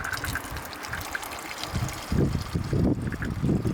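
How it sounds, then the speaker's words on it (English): River water being squeezed through a squeeze bottle filter, a soft trickling and dribbling with a few gurgling spurts near the end, heard close up over faint outdoor background. "So I take my water bottle and I just squeeze,"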